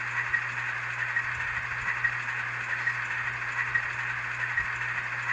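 Model Atlas locomotive fitted with a Soundtraxx Econami sound decoder, idling in notch 1: a steady low diesel hum with a constant higher whine and faint rattles, even and uninterrupted, no talking.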